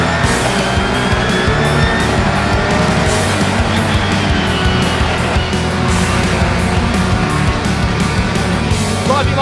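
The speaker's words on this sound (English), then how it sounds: "Driving like a veteran, gets a big whack in the back from Turkington, and that fires him wide" Touring race cars at speed around the Brands Hatch circuit, a dense continuous roar of several engines with tire squeal, loud and sustained throughout.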